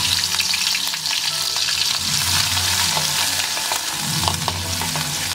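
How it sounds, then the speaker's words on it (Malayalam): Crushed ginger and garlic frying in hot oil for a Kerala-style crab roast, a dense, loud, continuous sizzle with occasional stirring scrapes close by and no talking. "എണ്ണ ഇവിടെ നന്നായിട്ട് ചൂടായിട്ട് വന്നിട്ടുണ്ട്. അപ്പോൾ നമുക്ക് ചതച്ച് വെച്ചിരിക്കുന്ന ഇഞ്ചിയും വെളുത്തുള്ളി ഇട്ട് കൊടുക്കാം."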